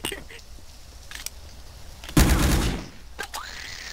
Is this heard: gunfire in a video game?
yes